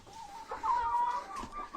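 A few soft, close chicken clucks in quick succession, with a brief warbling note in the middle.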